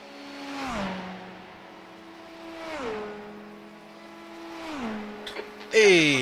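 An LMP2 class leader race car roars past in a Le Mans endurance racing video game, its engine note sweeping down in pitch through three successive passes, with a brief high whine and clatter at the end.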